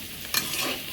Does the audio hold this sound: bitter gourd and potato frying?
yes